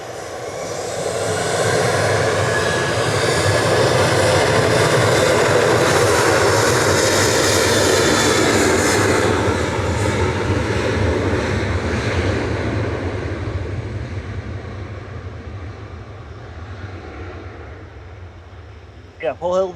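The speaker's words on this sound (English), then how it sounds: "Ryanair departing to Dublin, flight 555 EI EKG." A Ryanair jet departing for Dublin thunders loudly, peaking early and then slowly fading as it climbs away, with talking heard over the roar.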